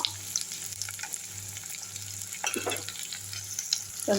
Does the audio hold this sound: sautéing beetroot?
yes